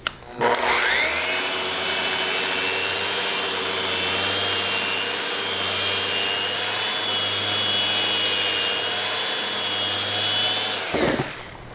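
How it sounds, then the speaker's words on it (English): A Festool Rotex sander with 60 grit paper grinds across a wooden board in one loud, steady whirring run of about ten seconds, starting abruptly and spinning down at the end, with no talking. "Because I'm using 60 grit, it did a pretty good job on that. But when I switch to Rotex, watch how fast I can do this."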